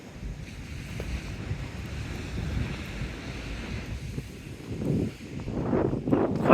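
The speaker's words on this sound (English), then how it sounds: "Quite big waves there by the ice cream cone." Large waves break near a seaside skate park on a windy day, with steady wind rumble buffeting the microphone and surges of surf swelling louder toward the end.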